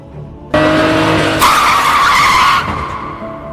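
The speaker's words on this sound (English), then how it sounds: "Suddenly, a car appears and almost runs them over." A car skids in sudden, loud tire squeal and engine noise as it nearly runs over people on a street, the screech lasting about two seconds before fading.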